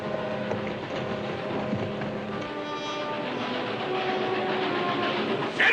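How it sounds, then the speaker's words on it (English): A train approaches with a steady rumbling, rattling roar that builds slightly louder toward the end, heard from some distance with no voices. "the train's coming."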